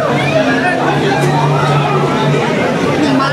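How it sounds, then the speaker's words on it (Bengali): Dense crowd babble fills a Kolkata Metro station platform during a new line's opening celebration, a steady wash of overlapping voices with no pauses, loud and close. "ভিড়টা দেখুন। ভিড় শ্রেয়া।"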